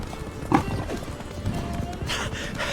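In the video game The Witcher 3, horse hooves clatter in a quick galloping rhythm over a steady game soundtrack, with a brief whinny-like burst early on.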